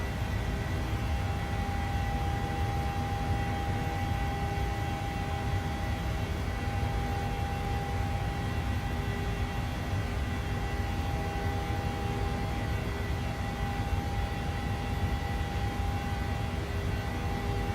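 Steady, loud aircraft engine drone from a plane climbing out over Los Angeles in Microsoft Flight Simulator 2020, a continuous broadband roar with a faint constant tone running unbroken throughout, no voices.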